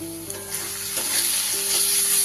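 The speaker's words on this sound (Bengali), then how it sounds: "মশলাটা থেকে কিন্তু এইবার আস্তে আস্তে তেল ছাড়া শুরু করেছে।" Spice paste frying in oil in a pan for a katla fish curry, a steady close sizzle that slowly builds in loudness, with a faint tonal hum beneath it.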